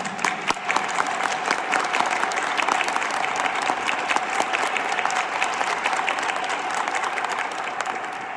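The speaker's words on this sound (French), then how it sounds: "on va les encourager et les féliciter en les applaudissant chaleureusement." Sustained applause from a church congregation at a first communion Mass, many hands clapping steadily and evenly throughout.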